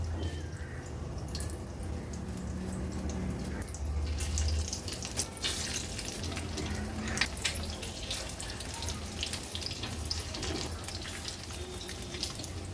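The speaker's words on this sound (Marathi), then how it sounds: "एक एक करून 3 अंडी आपण अशी ह्या कच्च्या अंड्यामध्ये डीप करून फ्राय करायला ठेवली आहेत" Three eggs deep-frying in oil in a pan for Marathi egg rice, a steady crackling sizzle with dripping, bubbly pops running throughout at moderate level, with no one talking.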